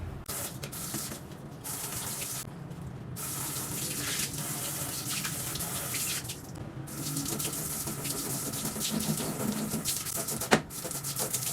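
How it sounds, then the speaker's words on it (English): Tap water flows steadily over table fan blades and guards being washed, a constant splashing hiss with brief dips and one sharp knock near the end. "the blades and the guards are washed with flowing water"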